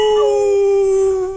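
A wolf howl sound effect played on a Spanish-language morning radio show, one long sustained tonal howl with rich harmonics holding steady and tapering slightly at the end, loud and close with no talk over it.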